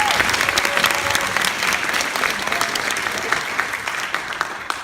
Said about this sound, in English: let's give our MCs a round of applause for doing such an amazing job hosting the show